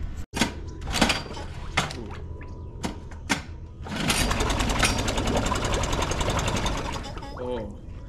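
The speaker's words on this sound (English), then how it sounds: "Let's fire up and see if she wants to run." A cheap outboard motor, fitted with a cleaned carburetor and a new fuel pump, is pulled several times with sharp yanks and sputters. It then catches into a fast, buzzing run that holds for a few seconds before faltering, loud and close.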